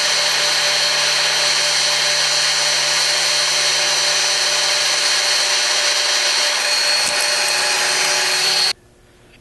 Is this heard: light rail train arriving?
no